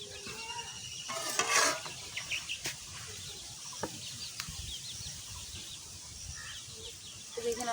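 Hot oil fizzes softly in a cooking pan in a village kitchen, a faint steady crackle with a few sharp clatters, and birds and chickens call in the background.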